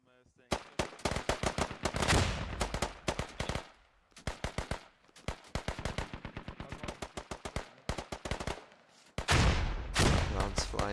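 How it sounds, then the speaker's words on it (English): Gunfire in a tactical video game, with loud bursts of rapid automatic fire in clustered volleys broken by short pauses and nearby heavy bangs. "Rounds flying, smoke in the compound."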